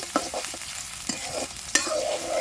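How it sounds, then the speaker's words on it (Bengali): Onion and bay leaf frying in oil over a clay stove, a low sizzle broken by several sharp scrapes and clinks of a stirring spoon against the pan. "পেঁয়াজ আর তেজপাতা। হালকা একটু ভেজে নিব।"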